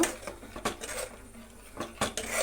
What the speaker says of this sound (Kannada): ಸೌಟಲ್ಲಿ ಕಲಿಸ್ತಾ ಇರಬೇಕು ಫ್ರೆಂಡ್ಸ್